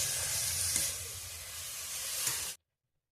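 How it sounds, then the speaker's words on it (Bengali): Shredded cabbage sizzles and hisses steadily in a hot pan as it is stirred into fried spices for cabbage paratha filling, a close, dense frying sound that cuts off abruptly. "বাঁধাকপিটা ভালো করে মশলার সঙ্গে মিশিয়ে নেব।"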